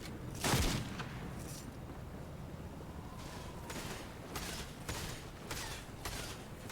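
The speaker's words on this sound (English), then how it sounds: "This is the powerful sniper I was talking about." Sniper rifle shots in Fortnite gameplay: one loud, sharp report near the start, then several fainter cracks spaced through the rest over a steady background hum.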